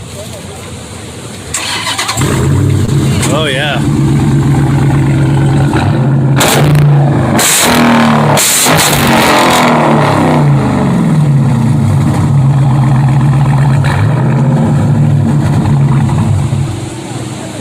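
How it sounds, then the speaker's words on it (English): A muscle car engine cranks and fires up at a show, then settles into a loud, deep exhaust idle with several sharp revs, close by, with people talking over it. "Okay, to fire it up so we can hear that exhaust."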